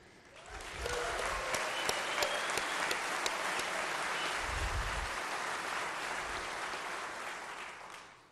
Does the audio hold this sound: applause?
yes